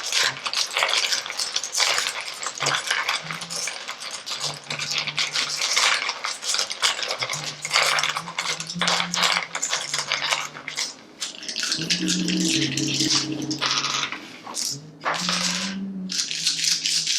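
Rune stones shuffled by hand during a rune reading, giving a steady clattering rattle of small hard pieces knocking together, close and continuous, with a faint low hum underneath.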